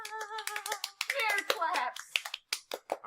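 A burst of hand clapping, several sharp claps in quick irregular succession, mixed with excited voices and someone talking over them.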